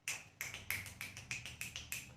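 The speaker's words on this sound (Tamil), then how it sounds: "எங்களுக்கும் சொட போட தெரியும்" Crisp finger snaps repeat about every third of a second in a steady rhythm, eight or so sharp clicks close to the mic with nothing else heard.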